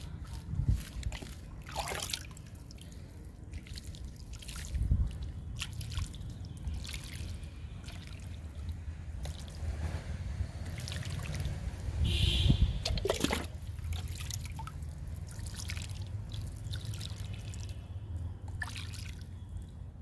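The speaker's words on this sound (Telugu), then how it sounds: "ఇప్పుడు అంజీరా మొక్కకి వాటర్ ఇచ్చేద్దాం." Water is poured onto a fig plant in a pot of soil, a soft trickling and splashing that swells and fades over several seconds, fairly quiet, with faint background noise and no talk.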